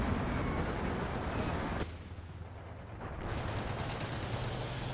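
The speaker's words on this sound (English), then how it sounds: "Everybody just unloading that freaking MG." Dense machine gun fire in Company of Heroes 2 forms a continuous rattling wash of bursts, briefly dropping in intensity and then returning with rapid repeated shots, with no talking heard.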